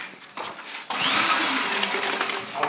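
A PU grouting injection pump for waterproofing whirs up into a loud, steady mechanical whine after a short buildup, running close with faint knocks.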